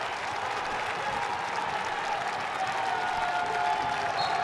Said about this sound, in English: Crowd here in the field now is getting on its feet